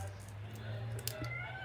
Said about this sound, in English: I have no idea what in the world Duke is meowing about, but he is.